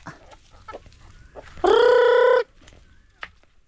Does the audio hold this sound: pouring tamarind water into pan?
no